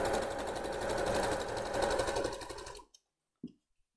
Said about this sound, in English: just like sew as close as possible to the elastic, but do not sew on the elastic